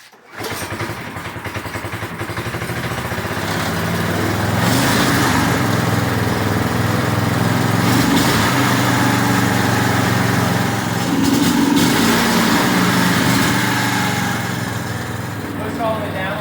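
A 1980s go-kart's Tecumseh 5hp small engine runs loud and close, a buzzy high-pitched drone that swells after starting and stays steady with slight surges.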